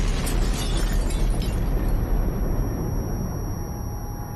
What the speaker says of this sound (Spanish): De repente el campo tiembla por una potente explosión.